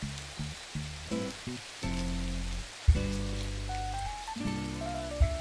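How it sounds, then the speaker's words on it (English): Rain falls steadily in the game Forever World, a soft even patter on surfaces beneath gentle synth music and occasional bright plinks, with no one talking. "And it's raining."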